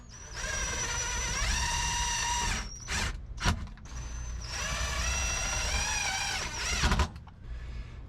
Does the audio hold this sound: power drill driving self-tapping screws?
yes